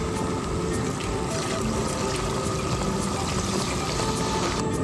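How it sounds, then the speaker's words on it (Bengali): Water is poured into a pan of Bengali-style chicken curry with potatoes for its red gravy, a steady, loud rushing pour that continues throughout, with no talking. "এবার পরিমাণ মতো জলটা দিয়ে ঝোলটা বানিয়ে নিচ্ছি।"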